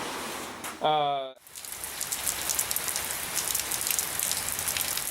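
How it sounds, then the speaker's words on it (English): Heavy rain in Bakersfield pours steadily in a dense hiss of drops after a brief spoken word at the start. "that's how it rains in Bakersfield. 1 minute it's deluging"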